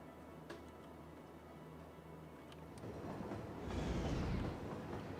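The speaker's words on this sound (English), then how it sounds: "Oh, wait, there's a train." Train arriving in the Cities Skylines video game: a low rumble and faint clicking build up over the clip, swelling into a louder rushing roll near the end.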